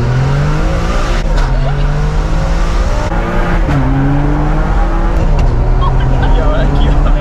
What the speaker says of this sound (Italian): Fammi sentire sto V12